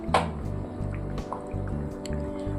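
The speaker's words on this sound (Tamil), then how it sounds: "கரண்டி போடாமல் நம்ம லைட்டாக இந்த மாதிரி கலந்து விடுவோம்" Village-style Kalinga Mural fish curry gently swirled in its pot with coriander leaves, without a spoon, giving soft wet squishes and drips of thick liquid up close over a low steady hum.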